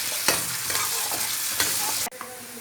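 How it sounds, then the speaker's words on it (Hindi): Onions fry in about three spoons of hot oil for a dhaba-style aloo gobhi sabzi, with a steady sizzle broken by several scraping stirs of a spoon in the pan and a sudden cutoff near the end. "ऑयल गर्म होते ही प्याज डाल देंगे इसके अंदर।"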